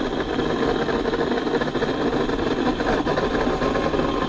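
A Burromax TT750R mini bike engine idles close by with a steady, even buzzing rumble and slight vibration, running alone without talk.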